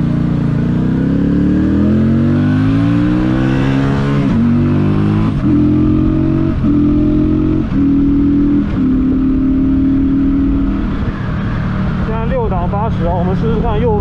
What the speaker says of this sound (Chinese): 习惯性的降档补油